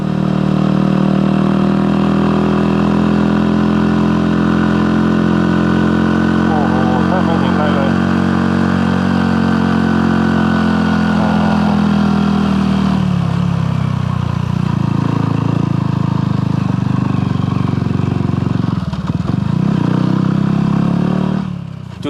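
A small motorcycle engine labours uphill in low gear on a foggy mountain road between Pua and Bo Kluea, giving a loud, steady droning hum that dips and shifts partway through, with someone talking over it.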